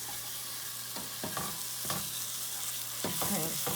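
Frozen hash brown potatoes tipped into a pan of potatoes and stirred, giving a faint steady sizzle with several scraping, clattering stir strokes spread through, no voices.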